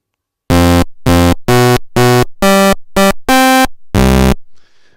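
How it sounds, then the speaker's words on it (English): Eight loud, buzzy sync-buzzer synthesized tones from maxYMiser, rich in high harmonics, sound in an uneven rhythm, each at a different pitch, followed by a faint fading tail. "this is a sync buzzer, but it's a bit more interesting than before"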